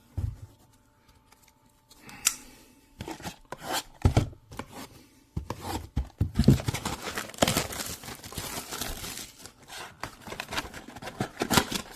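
Trading card blaster boxes and foil packs of 2025 Upper Deck World of Sports Vol. 1 being torn open, with close crinkling, ripping and rustling of wrappers and cardboard in irregular bursts, quiet at first and then busy and continuous.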